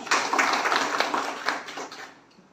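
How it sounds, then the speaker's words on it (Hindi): An audience at an All India Ulema Board meeting in Hingoli claps loudly for about two seconds, a dense wash of many hands, before the applause quickly dies away. "इन लोगों के लिए ज़ोरदार तालियां बजाएं"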